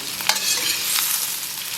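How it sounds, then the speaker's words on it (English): Onions frying and browning in an enamel pan, a dense continuous sizzle with a few faint stirring scrapes, close and unaccompanied by talk. "The onions are cooking down and browning"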